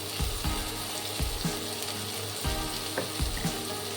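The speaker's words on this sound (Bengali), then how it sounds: "এবার আমি দিচ্ছি টমেটো কুচিগুলো" Chopped tomatoes sizzle in a hot pan with capsicum, a constant crackling hiss punctuated by regular knocks and scrapes of a stirring spoon.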